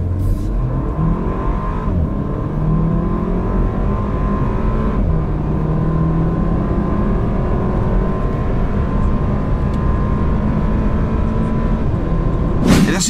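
Porsche Macan 2019 with a 2.0-litre turbocharged petrol engine driving, a steady, fairly loud engine drone with road and wind noise that holds throughout, lifting slightly at the very end.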